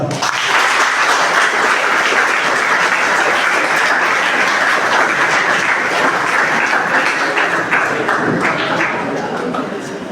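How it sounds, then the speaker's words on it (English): Loud, dense applause from the participants at the close of a personality development and life skills training class, a steady wall of clapping throughout with faint chatter underneath. "A big round of applause."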